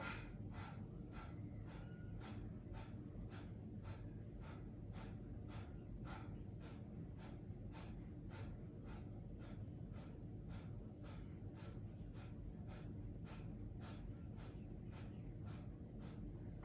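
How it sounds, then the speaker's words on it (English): Rapid, forceful breathwork exhalations through the nose, about twenty sharp evenly spaced bursts in a steady fast rhythm, close and clear over a constant low background hum. "Deep inhale through the nose. And a round of 20 exhalations."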